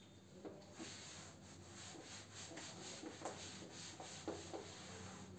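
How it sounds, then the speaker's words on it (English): Writing is rubbed off a classroom board with steady back-and-forth scrubbing strokes, soft and continuous with faint rhythmic swishes, alone under a low room hum. "Okay, I'm going to rub this."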